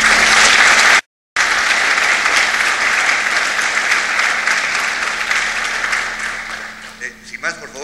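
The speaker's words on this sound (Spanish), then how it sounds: "pedirles a todos ustedes un aplauso para este panel" An audience at a panel discussion in Lima applauds loudly and steadily, a dense wash of clapping that briefly cuts out and then tapers toward the end.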